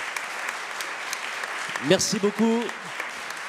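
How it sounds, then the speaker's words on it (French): An audience at a French conference applauds its guests with steady, moderately loud clapping throughout, while a voice briefly speaks over it. "On applaudit vos invités ce soir."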